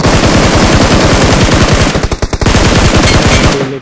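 Rapid automatic gunfire from the BGMI mobile battle royale game, loud and continuous bursts of machine-gun fire with a brief dip midway before resuming until cutting off at the end.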